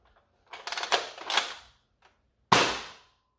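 A modified toy dart blaster fires a quick rattling string of shots, then after a short pause one more sharp, loud burst, all close and otherwise quiet.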